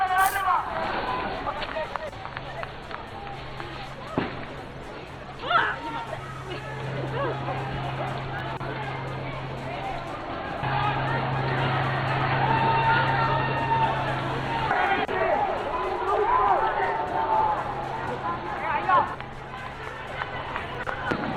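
A violent protest crowd in Colombo, Sri Lanka, with police firing tear gas shells: continuous crowd noise and running commotion, plus occasional sharp knocks, all under a reporter's voice-over.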